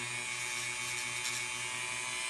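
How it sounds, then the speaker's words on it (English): A steady high-pitched whine of a Dremel rotary tool on its lowest setting, sanding drum grinding plastic model parts, continuous and close, with no pauses. "I just take my Dremel tool here and just knock them off"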